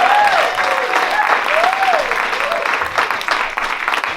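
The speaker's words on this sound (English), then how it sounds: "How about a wonderful, wonderful round of applause" Dense, continuous applause from an audience at an MLK tribute concert fills the clip at a steady level, with a voice briefly rising above the clapping near the start.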